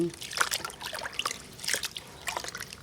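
Water poured into a fermenting fertilizer mix of banana and rice, an uneven close trickle and splash with several louder gurgling pulses.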